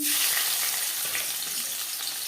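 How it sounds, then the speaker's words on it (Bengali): Chopped onions hit hot oil previously used to fry silver carp, giving a steady bright crackling sizzle with light stirring, close and even in level, no voices. "মাছ ভেজে নেওয়া তেলে দিয়ে দেবো পেঁয়াজ কুচি"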